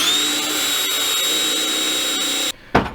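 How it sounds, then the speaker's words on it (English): A power drill bores a hole through a tire for tractor duals, whining steadily and loudly at a high pitch before cutting off abruptly, with a short final rev afterward. "So let's drill through this one"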